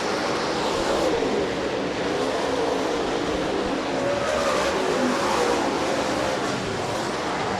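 Steady roar of Cornet Lightning powered LG2 race cars at Rapid Speedway on their final lap, a dense continuous engine drone with passing swells, heard from a distance without a break.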